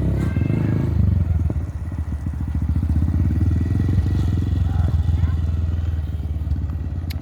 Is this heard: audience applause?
no